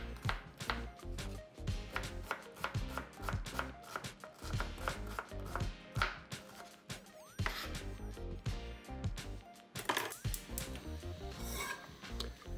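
A knife chops small onions on a cutting board in rapid, crisp, rhythmic strokes close up, with brief pauses and a scraping sweep near the end, and no talking.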